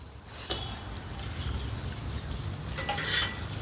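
Fried chakralu, a crisp Telugu rice-flour snack, lifted out of hot oil with a spoon or ladle, giving a steady low bubbling fry under a few sharp metal clinks against the pan, close and fairly quiet.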